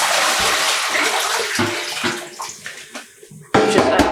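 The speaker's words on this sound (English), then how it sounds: "I'm going to pour out this water." Yellow-tinted dye water poured out of a container into a tub or sink, a loud gushing splash that thins into scattered trickles and drips, then surges again at the end.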